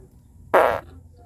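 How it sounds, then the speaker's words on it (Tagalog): A single short fart, about a quarter second, loud and close against a quiet background, in the middle of an unboxing of magnetic charging cables and a mini Bluetooth speaker. "Excuse me guys, utot lang ako."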